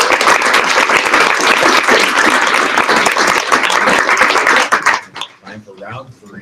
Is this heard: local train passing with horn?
no